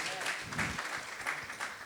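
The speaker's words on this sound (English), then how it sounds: "Clap for that too, please." Audience at a poetry cafe applauding, a short burst of steady clapping from a small crowd.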